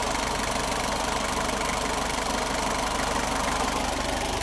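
The air conditioning compressor of a Nissan Urvan runs under the hood, mixed with a steady, close engine drone and an even hum, loud throughout with no talking.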